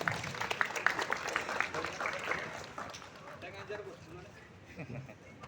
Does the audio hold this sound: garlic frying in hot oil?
no